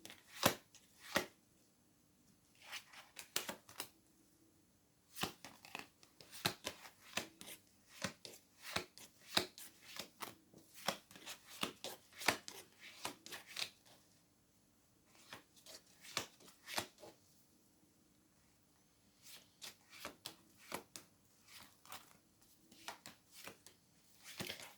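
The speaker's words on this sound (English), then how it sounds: "We'll just redeal the cards." Playing cards being shuffled and redealt for a tarot reading, a quiet close run of crisp riffles and slaps in irregular bursts with brief pauses between, no talking.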